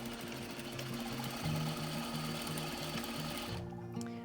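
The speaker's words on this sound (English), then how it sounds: "we're gonna cross them at a perpendicular and then sew corner to corner" A sewing machine stitches upholstery fabric diagonally from corner to corner with a fast, steady mechanical whirring and clatter that runs close and loud before stopping abruptly near the end.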